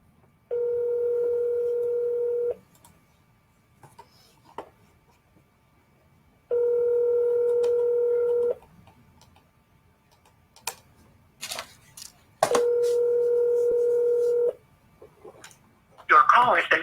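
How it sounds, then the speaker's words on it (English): A telephone dial tone sounds three times in long steady bursts separated by quiet gaps, with faint clicks and taps of a cell phone number being dialed in between. "So let's see if John Lovegrove still has the same cell phone number"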